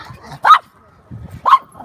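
A dog gives two sharp, close barks about a second apart, with low huffs and snuffling between them, outdoors at a dog walking area.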